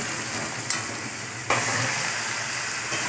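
Marinated chicken hisses and sizzles steadily in a pan over fried onions, a close, continuous frying crackle with brief stirring bumps, no voices.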